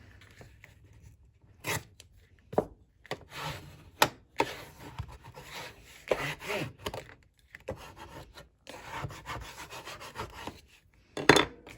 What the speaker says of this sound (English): I need to use a bigger bone folder for this